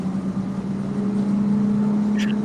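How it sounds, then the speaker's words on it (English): Bus engine passing close by, a steady low droning hum that holds loud and even throughout with a faint higher whir near the end. "All I can hear is that bus."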